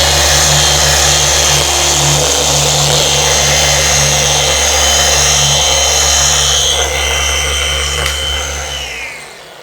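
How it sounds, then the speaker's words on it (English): A dual action polisher runs at speed setting 4 on a car panel covered with aged paint protection film, giving a loud, steady mechanical whir with a low hum that holds throughout and eases off at the very end. "Normal dual action polisher."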